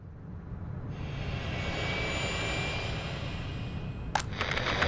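An airplane in the city-building game Workers & Resources: Soviet Republic gives a continuous jet engine roar that builds in intensity, with a sharp transient near the end and no voices.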